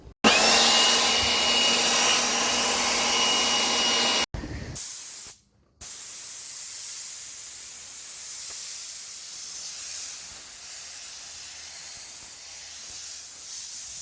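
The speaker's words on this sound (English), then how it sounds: "So we'll do contact adhesive, spray this side, spray the other side of this" Close, hissing bursts of aerosol contact adhesive spray onto an RV roof panel run for several seconds, cut off briefly, then resume as a softer, steady hiss.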